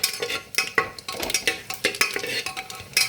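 Whole cumin seeds sizzling in hot ghee, with rapid close pops and crackles in an uneven, bursty rhythm.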